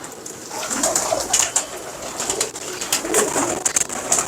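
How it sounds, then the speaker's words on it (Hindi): Pigeons coo softly in a small group, low throaty murmurs overlapping with scattered chirps and light rustling nearby. "शानदार कबूतर"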